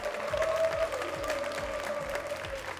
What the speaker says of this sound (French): Public, on applaudit encore nos invités.